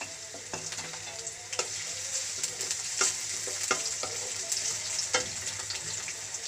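Green chili and chopped onion frying in a little white oil for a cabbage and egg dish, a steady close sizzle broken by scraping stir strokes at irregular intervals, with no voices.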